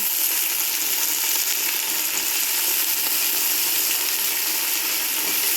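Chopped vegetables frying with onions in a pan for Hyderabadi veg dum biryani, a loud, steady, close sizzle that continues evenly without voices.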